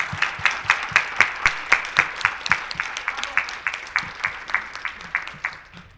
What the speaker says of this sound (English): if we could have one big round of applause for all of our presenters at this year's competition